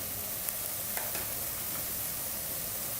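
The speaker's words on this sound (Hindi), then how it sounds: "अब मैं इसमें मसाला डालने लगी" Ground spices go into onions frying with garlic-ginger paste for a potato and split pea curry. A steady close sizzle carries a few faint stirring clicks, with no voices.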